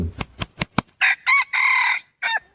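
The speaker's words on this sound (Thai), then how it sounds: "เมื่อเสียงไก่ขันดังขึ้น" A rooster crows loudly and close by after a few sharp knocks, its call broken into several rising and falling segments.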